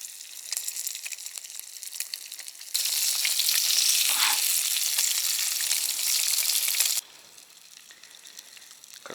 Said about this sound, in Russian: Костерчик горит, рыбка жарится